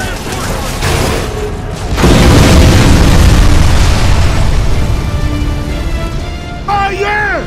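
A fuel tank blows up in Gears of War 3 with a loud booming blast about two seconds in, followed by a sustained roaring rumble of fire and crackling debris, with game voices and a faint whistling tone near the end.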